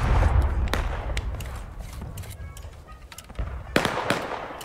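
Artillery and musket fire in a Civil War battle video game crack and boom in scattered sharp reports over a rumbling battlefield background, with one louder blast near the end.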